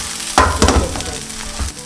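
A red bean pancake is flipped in a pan of oil, giving a short crackling sizzle with a couple of soft thuds from the flip over a steady background hiss.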